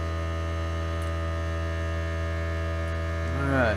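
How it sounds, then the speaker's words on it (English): An air compressor for an airbrush runs steadily nearby, a low, even motor hum with strong tonal drone throughout and a slight rise in pitch near the end. "Don't mind that compressor."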